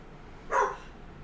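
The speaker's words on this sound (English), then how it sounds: "my dogs just ran in the room and started barking" A single short dog bark or yip goes off indoors, somewhat muffled and slightly distant, rising out of a quiet room background.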